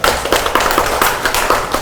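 Audience applause at a local education forum as a county council member is invited to speak, a loud, steady patter of many hands clapping in uneven rhythm throughout.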